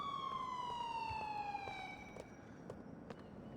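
A police car siren in Grand Theft Auto IV wails with a falling tone in a busy game street, fading gradually over steady traffic noise and faint footsteps.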